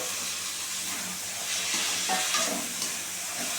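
Peas and potatoes tumble into a frying pan of simmering spice paste for ghugni, a steady sizzling hiss with soft stirring scrapes and a slight swell midway, close and continuous with no talking.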